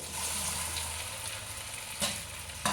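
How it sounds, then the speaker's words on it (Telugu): Peeled tubers frying in hot oil in a pan give a steady, close sizzle that runs throughout, with a couple of brief louder spurts of crackle near the end. "నూనె అయితే కాగింది కదా ఇందులో వేసేస్తున్నానండి"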